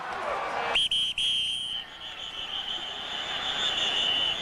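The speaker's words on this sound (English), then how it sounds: "And a whistle." A referee's whistle at an NFL football game, a sharp high shrill blast that cuts in abruptly and holds for several seconds over distant stadium crowd noise.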